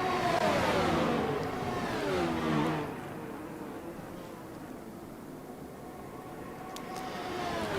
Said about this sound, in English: As there is the cars going through, that will be Borges Zarzo's car you see there on the track